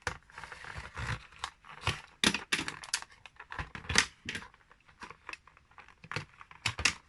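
A cutter slices and tears open the cardboard packaging of a Johnny Lightning toy car, giving a run of short, close, crisp cuts and scrapes in an uneven rhythm, with no one talking.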